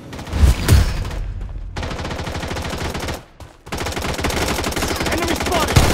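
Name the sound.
gunfire in the video game Blood Strike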